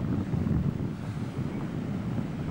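A Pacific Ocean breeze buffets the microphone on a white-sand beach near San Diego, a loud, steady low rumble with a faint wash of surf beneath it.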